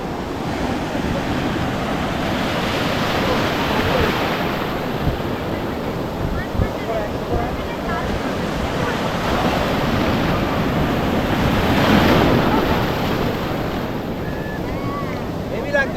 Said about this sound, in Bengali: প্রচুর বড় বড় ঢেউ।